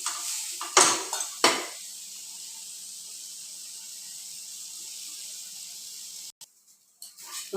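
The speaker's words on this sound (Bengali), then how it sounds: "উল্টে পাল্টে 2 সাইডে লাল লাল করে ভেজে নেব" Eggplant slices fry in a little oil in a pan, opening with a few loud clanks of a utensil against the pan before settling into a quiet, steady sizzling hiss, with another clatter near the end.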